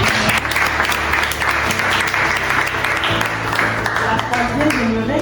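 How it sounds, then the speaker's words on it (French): Applause from the audience at a book signing, a loud continuous wash of many hands clapping throughout, with some murmuring voices underneath. "Si on peut applaudir pour ça."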